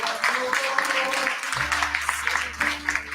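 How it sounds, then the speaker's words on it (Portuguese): Church congregation applauding, a dense, continuous crowd clapping that fills the whole moment, with a low organ or keyboard drone coming in halfway through. "Aplauda Jesus, aleluia."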